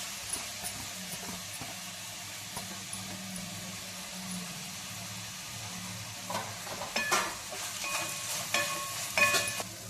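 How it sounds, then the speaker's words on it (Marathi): Tomato paste sizzles in a pan of oil for a spicy vatana misal while being stirred. A steady frying hiss runs throughout, and the scraping and clatter of stirring grow louder toward the end. "आता ही टमाट्याची पेस्ट केलेली ही पण त्याच्यात टाकू आपण."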